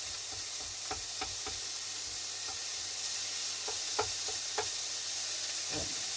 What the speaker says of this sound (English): So we're breaking up the mince as we did the last time.